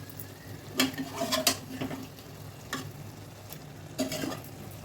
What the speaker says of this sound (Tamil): கொஞ்சம் அதில் கொழுப்பு போடணும். இப்போ நீங்கள் அதில் மட்டன் போடுங்க.